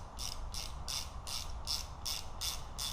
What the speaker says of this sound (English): So I'm gonna bring these all up tight, snug them.